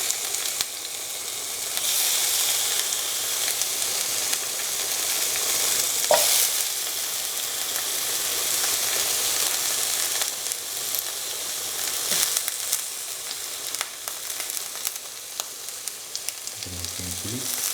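Green mango pieces sizzle in a hot pan while a spoon stirs them, a soft continuous frying hiss broken by occasional scraping strokes, fairly quiet and close with no talking.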